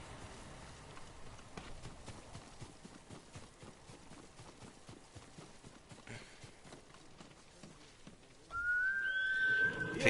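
Horse hooves clip-clop steadily in the samurai adventure game Ghost of Tsushima, with a sharp whistle-like whinny rising loudly near the end.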